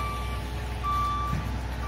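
A concrete truck backs up at a residential slab pour, its reversing alarm beeping steadily and clearly over a low, rumbling diesel engine, without any voices.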